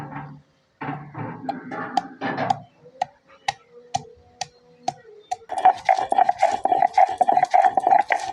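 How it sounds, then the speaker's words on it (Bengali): Ginger is ground with a stone on a flat stone slab (pata): light regular taps, then a fast rhythmic rasping scrape of stone on stone, close and fairly loud. "আদাটা বেটে নেব।"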